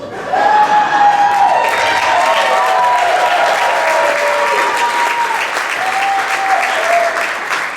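A school concert audience in a hall applauds loudly and continuously for a retiring elementary music teacher and band director, with dense clapping and a few tonal cheers or whistles riding over it.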